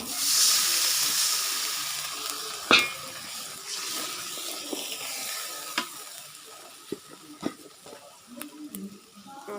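Hilsa fish frying in a pan with turmeric and chili sizzles loudly as water is added, the hiss easing into a steady simmer, with sharp stirring clacks of a utensil scattered throughout.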